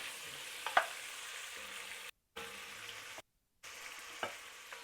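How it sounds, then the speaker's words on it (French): Chunks of beef for bœuf bourguignon browning in a pot, giving a steady low sizzle and fry, with a few soft clinks and stirring knocks and two brief dropouts. "Alors, on va les faire rôtir encore."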